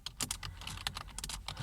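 Fast, irregular clicks of typing on a computer keyboard while entering text into a browser input field, close and fairly quiet, with no voices.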